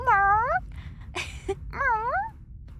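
A voice imitates a cat's meow, two drawn-out rising and falling meows close up, separated by a brief breathy sound.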